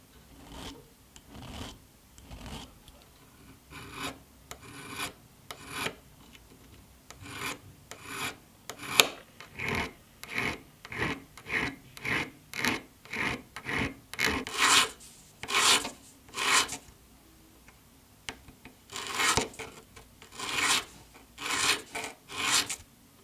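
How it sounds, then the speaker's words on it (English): Files and sanding sticks rasp over excess solder at a handmade ring's joint, a close, steady run of short scraping strokes in quick bursts with brief pauses, louder toward the end, with no talking. "I will now sand off that little bit of excess solder around the joint using files and pathing sticks."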